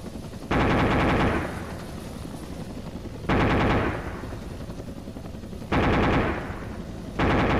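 AH-1W Cobra helicopter cannon in the Arma 2 video game, four separate loud bursts of rapid fire, each about a second long with a booming tail, over a steady rotor hum.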